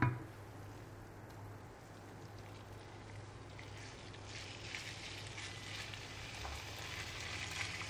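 Minced meat frying in a pan with browned onions, a steady, moderate sizzle with soft crackle throughout, alone with no talk, broadening slightly in the later seconds.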